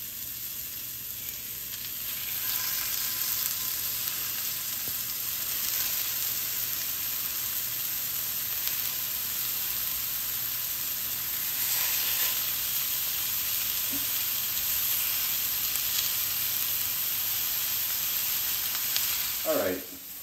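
Sausage fries in a little oil in a hot skillet with a steady, even sizzle that runs loud and close throughout, and a faint clank of a utensil just before the end.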